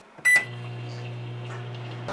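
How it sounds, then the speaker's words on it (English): A 700 watt microwave oven starts with a short beep, then settles into a steady, low, even hum that runs close and unbroken. "All right, our microwave has just started."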